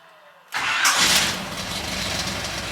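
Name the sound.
Small Block Chevy engine starting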